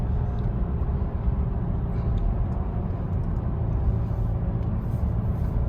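Low, steady engine drone from inside an Alfa Romeo Giulia with a torquey 4-cylinder engine, pulling hard through third and fourth gear. The cabin hum stays dense and even throughout, with no talk.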